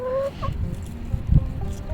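A year-old rooster out in an open yard for the first time gives a short burst of close clucking, with a brief louder thump near the end and no talk.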